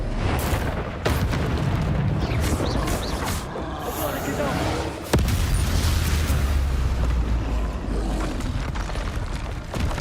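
A Confringo fire-blast spell in Hogwarts Legacy combat, booming explosive bursts with a heavy low rumble, one sharp hit midway followed by sustained roaring and clattering, with a voice around it.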